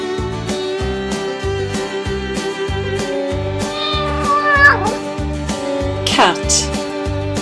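A cat meows twice in a children's farm-animal song, the rising and falling cries clear over a bouncy backing beat with sung voices.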